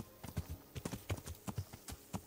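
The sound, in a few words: horse clip-clopping in Kingdom Come Deliverance video game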